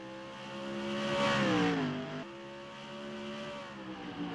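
Stock cars roar away from the start of a race, their engines rising in pitch together as the field accelerates past, loud and close before easing into a sustained high whine.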